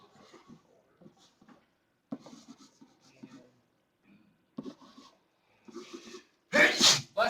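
A single sharp sneeze bursts out near the end in a classroom during an algebra lesson, loud and close after a stretch of quiet talk and faint scratching of writing.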